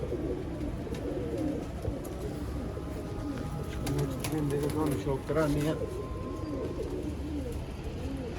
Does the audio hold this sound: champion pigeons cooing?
yes